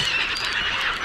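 Crows waiting for peanuts near a car dealership: a loud, close, harsh call held for about a second, alone.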